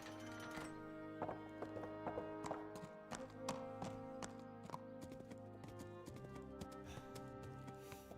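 Horse hooves clip-clop in a steady walking rhythm in the medieval video game Kingdom Come, crisp and close over a quiet sustained musical background.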